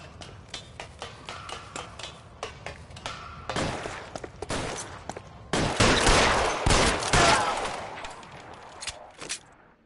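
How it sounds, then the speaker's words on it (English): Gunfire in the video game L.A. Noire, with a run of sharp single shots followed by dense overlapping bursts of rapid fire, loud and close, tapering back to scattered shots at the end. "Shots fired."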